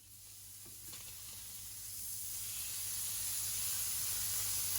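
A steak flipped over in a hot pan sizzles and hisses steadily, the bright frying noise swelling gradually louder and staying close, with no voices.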